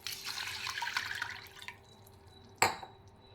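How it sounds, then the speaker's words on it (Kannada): Water poured from a vessel over washed rice and moong dal in a pot: a splashing, gurgling pour lasting under two seconds, then a quiet pause and a single sharp clink near the end. "ನಾನು ಅರ್ಧ ಬಟ್ಲು ಅಕ್ಕಿ, ಅರ್ಧ ಬಟ್ಲು ಹೆಸರುಬೇಳೆಗೆ 4 ಕಪ್ ನೀರು ಹಾಕ್ತಾಯಿದ್ದೀನಿ"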